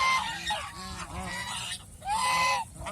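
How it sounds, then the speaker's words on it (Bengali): Several loud, nasal honks from a large-breed male goose close by, in bursts with short pauses between them. "এই যে আরেকটা ছেলে হাঁস"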